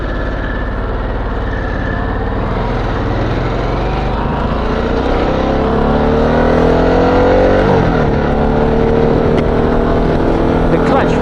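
A Harley-Davidson Sportster S cruiser motorcycle is ridden with a loud, close engine drone that climbs in pitch as it accelerates, holding a steady, powerful roar throughout.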